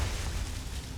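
Confringo spell blast from Hogwarts Legacy, a loud, booming explosion with a deep rumbling low end that fills the whole second, with no talk over it.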